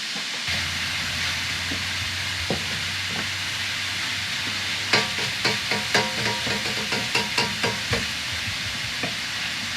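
Onion fries in a hot pan with a steady, loud sizzling hiss; a run of clinking stirring knocks joins midway and continues for several seconds.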